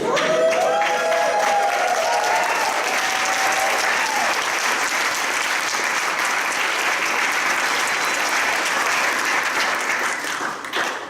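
At a candidate forum, a roomful of people gives a sustained round of applause, steady dense clapping with a few early whoops, held at even loudness before tapering off at the end.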